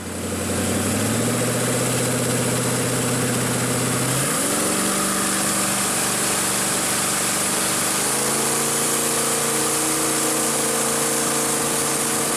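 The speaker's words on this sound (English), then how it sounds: "We've got a V8 in there. This is a Chevy 350, and that right there is a jet drive." Chevy 350 V8 driving a jet drive in a tri-hull boat, running steadily and loud throughout, its pitch stepping up around four seconds and again near eight seconds, with no talking.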